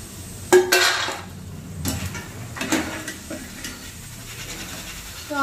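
Freshly fried peanuts are tipped from the pan onto a plate, giving a few sharp clatters of metal against dishware and a scraping rattle, separated by quieter pauses, close by with no talk.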